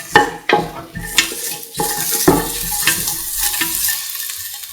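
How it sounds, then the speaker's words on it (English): Ingredients for duck coconut milk rice being stirred in a pan, with loud scraping clinks of a utensil against metal over a soft sizzle, several sharp knocks early on followed by continuous stirring noise. "Mix thoroughly."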